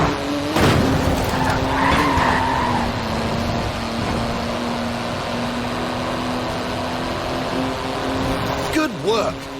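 A car in Forza Horizon 4 braking hard on carbon ceramic brakes, its tires letting out a long, loud, sustained skid and squeal over steady engine drone, ending with a brief final chirp.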